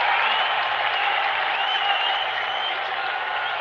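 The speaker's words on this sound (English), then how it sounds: "A rare dot, cheered by the crowd too." A large cricket stadium crowd at an India vs Sri Lanka T20 match roars in a steady, dense wash of cheering and applause that holds at an even level throughout.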